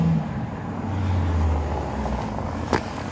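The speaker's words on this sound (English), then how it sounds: "somebody's just pulled up in an awesome brand new Lexus with a very cool number plate" A brand new Lexus IS F pulls up nearby, its engine a steady low rumble that swells and eases, with a brief sharp sound near the end.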